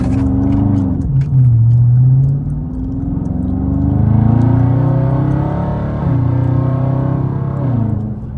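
Dodge Charger Scat Pack accelerating hard from a launch in eco mode, a loud, close engine roar climbing in pitch through repeated gear changes, with a brief dip between each shift.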